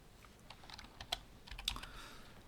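Quiet, close typing on a computer keyboard, a loose run of light key clicks with a couple of sharper taps, alone without talk.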